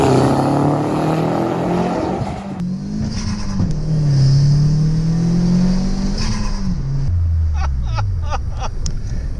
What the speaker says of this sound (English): we hit the street for our very first pull in our properly boosted Nugget Yaris